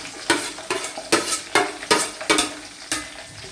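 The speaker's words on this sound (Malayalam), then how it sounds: "സവാള ഒരു 4-5 സവാള ഇടണം." Four or five sliced onions frying in a pan for Kerala-style beef curry, stirred with rhythmic scraping strokes about twice a second over a steady close sizzle, no talking.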